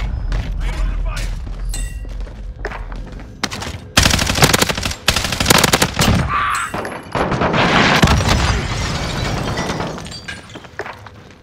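Rapid bursts of video game gunfire crackle and boom through a firefight, with shattering impacts and dense volleys, loud and close, while a voice talks over the action.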